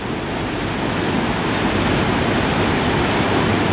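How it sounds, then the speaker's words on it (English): Loud, steady rush of the fast-flowing Genesee River beneath the Court St. bridge, a dense unbroken roar with no voices. "More rain means a mean flowing Genesee River."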